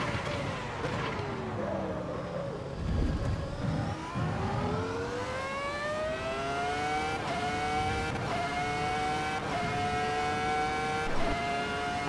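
The Ferrari F2004 Formula 1 car in Assetto Corsa EVO screams at high revs, its V10 pitch climbing through gear after gear with quick shift breaks. The engine is loud and continuous, and a voice talks faintly beneath it.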